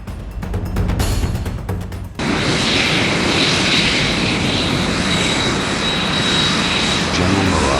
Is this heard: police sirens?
no